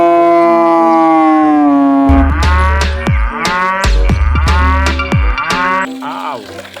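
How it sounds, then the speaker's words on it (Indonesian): A cow lets out a loud, drawn-out moo with a rising tone, then a noisy stretch of overlapping calls and rumbling low bellows. The sounds are close and strong, and no one is talking. "Ada sapi warna merah."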